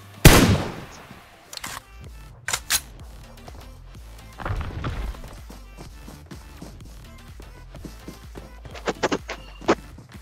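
Gunfire rings out in a PUBG-style battle royale match, with a loud opening shot, scattered single cracks and a short burst near the end, mixed with in-game footstep and movement sounds.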